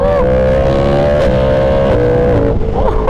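A Yamaha R1M sport bike's engine revs hard through quick gear shifts, its rising tone stepping down with each change, loud and close without talk.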